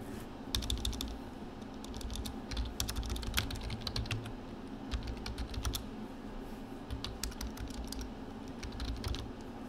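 Fingers type a router command on a computer keyboard, a steady run of quick, light key clicks with brief gaps, close and fairly quiet.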